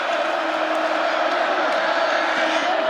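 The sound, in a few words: football stadium crowd booing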